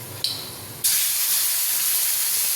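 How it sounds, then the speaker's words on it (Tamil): A sharp hiss erupts as wet ground paste for Tamil vatha kuzhambu hits a hot pan, then settles into a steady, loud sizzle that continues to the end. "இப்போ அரைச்ச விழுது ஊற்றிடலாம்."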